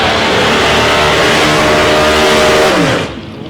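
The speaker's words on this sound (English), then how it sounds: "Listen to the rev on that car at all." A loud race car engine, an Oldsmobile, roars steadily at high revs, its pitch climbing slightly before dropping off sharply near the end as the car passes.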